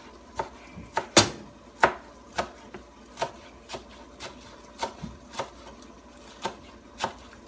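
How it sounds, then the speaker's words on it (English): A knife chopping vegetable tops on a cutting board, a slow series of sharp, distinct thuds about one per half second, close and clear with no voices. "I always chop the tops off, discard those. And we're just going to chop."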